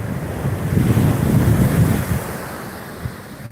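Atlantic Ocean surf breaking on the shore at Swakopmund, Namibia: a broad low rumble of waves swelling then easing, with wind buffeting the microphone throughout and no voices.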